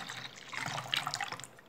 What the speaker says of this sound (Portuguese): Agora eu vou colocar a água sanitária.